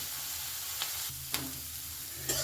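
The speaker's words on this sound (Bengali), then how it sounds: "গাজর ও ক্যাপসিকাম ভালো করে আমি ভাজা ভাজা মতন করে নিয়েছি এবার এর মধ্যে কর্নগুলোও দিয়ে দিলাম" Carrot, capsicum and corn stir-fry in a pan with a soft, steady sizzle, broken by a few sharp spatula scrapes and taps, with nobody talking.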